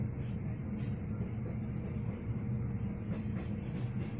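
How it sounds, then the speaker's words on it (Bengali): A passenger train on the Pune to Kolkata route rolls along its rails with a steady, loud, continuous rumble and faint rattling throughout, heard from inside the carriage with no voices. "আর এই যে ট্রেন ছাড়লো"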